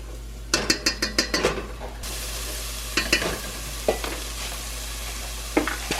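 Garlic sizzles in a pan, first stirred with a quick run of sharp scraping taps, then left to a steady hiss broken by a few more scrapes, close and unaccompanied by speech.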